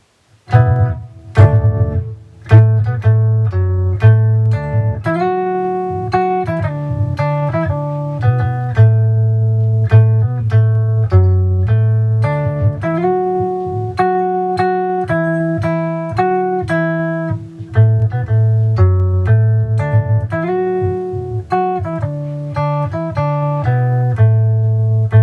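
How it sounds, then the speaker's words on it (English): Electric bass run through a punchy octave effect pedal into a bass amp, playing a steady line of thick, doubled low notes with a bright upper octave. It rings loud and close with no talking. "Okay, punchy octave."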